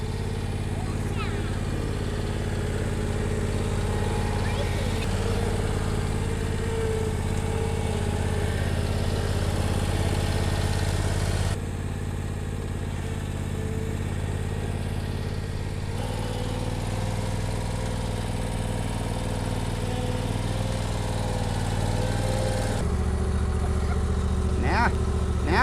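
A zero turn lawnmower engine runs steadily at close range throughout, a continuous mid-pitched drone with a few brief shifts in tone, while faint voices come and go underneath.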